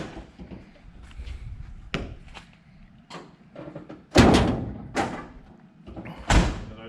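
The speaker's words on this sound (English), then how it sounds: "I love the way those doors shut." Several solid thuds of a Chevrolet Square Body truck door shutting, one after another, with quieter handling noises in between; the later shuts are loud and close.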